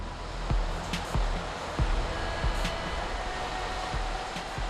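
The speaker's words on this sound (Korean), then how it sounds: "마을의 반대편 해안은 늘 거센 파도에 크게 술렁입니다." Strong waves churn and surge against the rocky coast of Christmas Island, a continuous loud roaring wash punctuated by several heavier crashing bursts.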